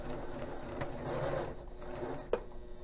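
An HD-9 sewing machine runs steadily through a seam, a continuous mechanical whir of rapid stitching with a sharp click near the end, close and alone.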